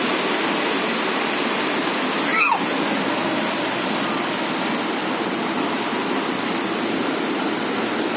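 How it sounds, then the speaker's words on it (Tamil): Heavy rain pours down at night in a constant dense hiss, loud and unbroken, with one brief faint chirp partway through and no talk. "செம்ம மழை பெய்யுது"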